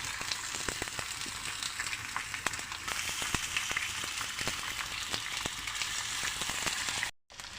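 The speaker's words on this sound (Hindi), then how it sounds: "थोड़ा सा घी डालेंगे और आपको दिखाएंगे कि कैसे इनको फ्राई करना है" Sandwiches fry in hot ghee on a tawa, giving a dense, continuous sizzle with scattered crackles and pops, close and steady throughout.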